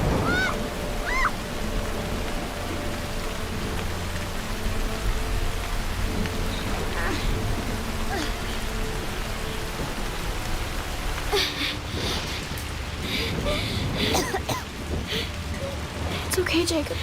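Heavy rain pours steadily outdoors in a dense, loud roar with low rumbling underneath, and brief voices rise over it in places.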